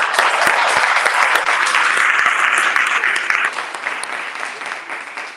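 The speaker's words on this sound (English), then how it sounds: "So I just want to make sure you give yourselves a round of applause." Pitch competition participants give themselves a round of applause, a dense, sustained clapping from a crowd in a large room, loud and even before tapering slightly toward the end.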